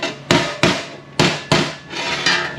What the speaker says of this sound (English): Smack down the bolt holes